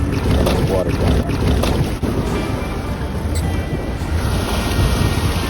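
A vehicle fords a river deep enough to reach its doors, with loud continuous water rushing and sloshing around it under rumbling wind-buffeted noise.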